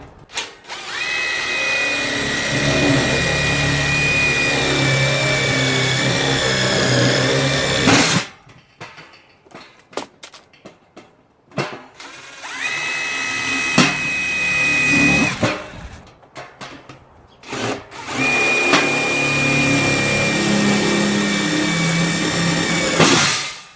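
A power drill whines loudly drilling out rivets, about three long sustained runs separated by quieter pauses with small clicks and handling noise.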